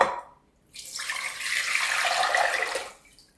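Filtered water poured from a container into a cooking pot for homemade hummingbird nectar, a steady close splashing pour of about two seconds that fades out, with no talking.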